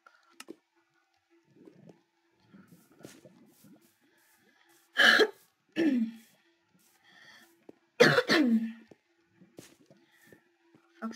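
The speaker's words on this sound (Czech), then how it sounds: "Fakt se dobře omlouvám za ten kašel." Harsh coughs burst out in two clusters, close and fairly loud, from a man playing Minecraft, with quiet background sounds and soft breathing between them.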